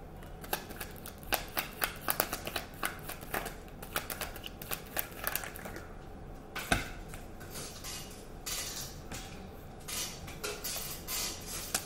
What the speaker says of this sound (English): let me pull some more cards just to see.